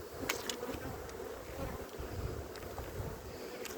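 A swarm of honeybees buzzes continuously around an open hive during a transfer, a soft, dense drone with a few louder bees passing near, outdoors with light wind in the background.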